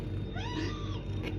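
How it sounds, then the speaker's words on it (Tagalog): A pet cat gives a single short meow, close and fairly clear, over steady low background hum. "Pusa kong makulit."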